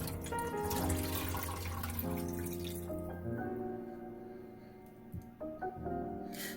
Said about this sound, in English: I'm pouring the water into the pan.